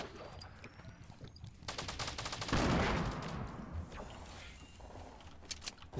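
Sniper rifle fire in the Fortnite video game, with a loud crack and a booming roll mixed among clicky mechanical game noises and rapid rattling bursts.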